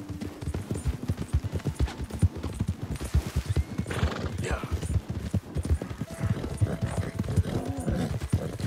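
A horse in Red Dead Redemption 2, its hooves clip-clopping in a quick, steady rhythm throughout, with occasional snorts and whinnies and someone talking over it.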